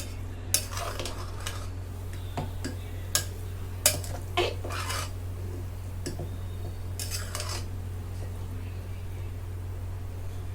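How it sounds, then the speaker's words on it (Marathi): A spoon mixes ghee through cooked matki bhaat (rice), giving several distinct clinks and scrapes against the pot over a constant low electrical hum. "आता हे तूप सगळीकडे मिसळून घेते"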